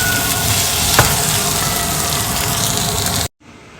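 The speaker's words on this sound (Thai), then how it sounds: "ขั้นตอนนี้ก็จะเอา ไส้กรอกค็อกเทลลงไปผัดด้วยนะคะทุกคน" Cocktail sausages stir-fry in a hot pan with a loud, continuous sizzle and light scraping of stirring, ending abruptly in a quieter hiss.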